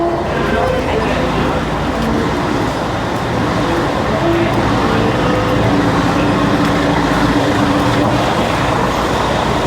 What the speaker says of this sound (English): All the noisy buses making their way down Elizabeth Street to take people down to Circular Quay.